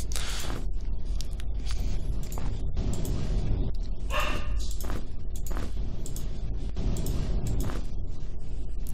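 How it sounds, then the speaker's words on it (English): A dog barks repeatedly in short bursts, close and fairly loud, against a constant rumbling background, heard during Labyrinth of Lies gameplay. "I don't know if you can hear that dog barking."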